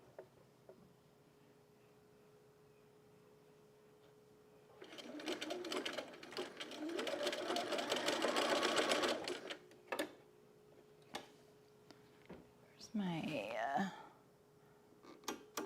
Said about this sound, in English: I don't actually sew with this machine very much